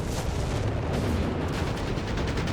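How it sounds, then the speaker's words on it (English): Heavy boom of an artillery shell striking a Panther tank in the World War II strategy game Company of Heroes 3, a dense, loud rumbling blast that fills the whole moment with no talk. "kind of a direct hit on the Panther from the artillery"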